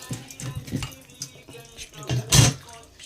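Water running from a kitchen tap in short bursts, splashing into a sink or bowl, with a louder gush near the end and a few faint clinks of dishes.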